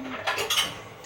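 Dishes and cutlery clink and clatter in a few quick knocks as a dishwasher is unloaded at home, close and fairly soft.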